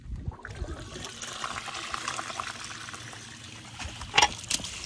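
Water from a hose splashes and trickles steadily into an old 1964 Ford F-350 truck, a soft continuous filling sound that stays fairly quiet, with a brief louder splash near the end.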